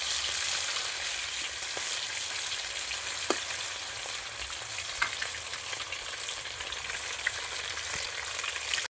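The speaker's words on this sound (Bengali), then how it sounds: "এখন আমি মাছটা উলট পালট করে দিচ্ছি।" Fish frying in a pan after being turned over, a continuous close sizzle with occasional pops and crackles over several seconds, with no talking.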